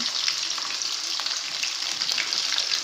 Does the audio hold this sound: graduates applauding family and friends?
no